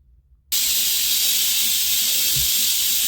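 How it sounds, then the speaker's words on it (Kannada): A pressure cooker whistles while palak paneer rice cooks: a sudden, loud, steady steam hiss starts after a short quiet moment and keeps going without a break, close by. "2 ವಿಸಿಲ್ಸ್ ಆಗಿದೆ."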